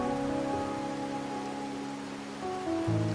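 Steady rain in the video game Wuthering Waves, a soft continuous hiss under sustained musical tones, moderately quiet with no pauses.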